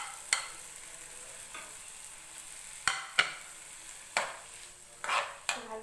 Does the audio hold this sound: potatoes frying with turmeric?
yes